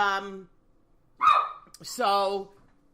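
A dog gives a few short barks, close by, with a brief pause between them.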